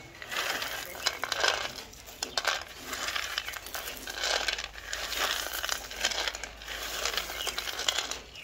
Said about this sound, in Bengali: বাদামটাকে এরকম হাত দিয়ে চাপ দিয়ে বাদামের উপরে যে লাল আবরণটা থাকে এটা তুলে নিব।